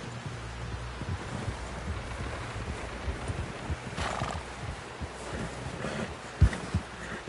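Horse in the video game Red Dead Redemption, with hooves clip-clopping and a whinny amid wind and rustling outdoor ambience, moderately close with a sharp thud near the end.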